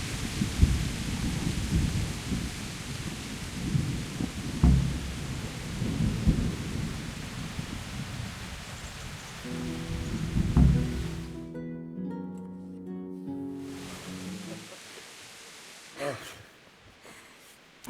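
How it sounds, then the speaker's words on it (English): Rain falls steadily while thunder rumbles and cracks in the medieval game Kingdom Come: Deliverance, with a brief musical tone passage partway through before the storm fades. "Not afraid of thunderstorms, are you?"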